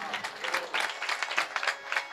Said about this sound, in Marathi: त्यामुळे या वर्गासाठी टाळ्या वाजवा तुम्ही.